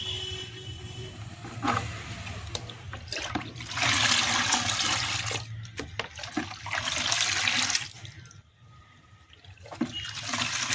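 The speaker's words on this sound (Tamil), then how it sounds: "இந்த ஃபினாயில் கான்சன்ட்ரேட்டட் லிக்விடை 5 லிட்டர் தண்ணியில் கலந்துக்கணும்" Water gushing and splashing as concentrated phenyl cleaning liquid is diluted into five litres of water, a loud continuous pour in long surges with brief lulls, no voices.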